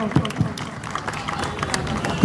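Audience clapping at a Delhi Police community gathering: a short burst of loud, dense applause from a crowd, with voices mixed in.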